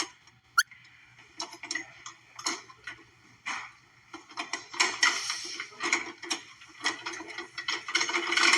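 Handcuff ratchet clicking as a woman struggles to free her left wrist from very tight handcuffs during an escape, giving scattered irregular metallic clicks and rattles, close and fairly quiet, with no talking.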